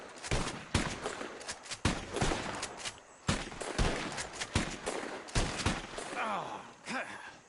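Repeated gunshots from a bird hunt in Red Dead Redemption II, sharp loud cracks fired in an irregular volley over about seven seconds, with game voices faintly mixed in.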